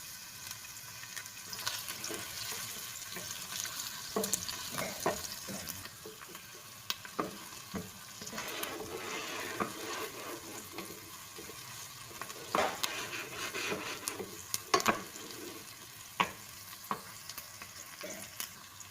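Onions sizzling in a pan for a Filipino-style okra dish, a steady close frying hiss broken by intermittent scrapes and clicks of stirring, with no talking.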